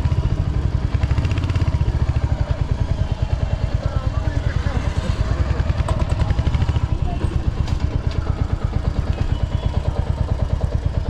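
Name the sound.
motorcycle being parked at parking lot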